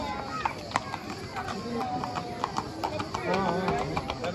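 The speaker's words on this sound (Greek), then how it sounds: "Ένα άλογο στη Θερμή." Horse hooves clip-clop steadily on hard ground during a festival procession and horse parade in Kleio, Lesvos, with a commentator talking over the close, rhythmic steps.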